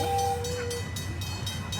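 The Irvine Park Railroad train runs along with a steady rolling rumble, a brief whistle tone sounding at the start, then continuing track noise, fairly close.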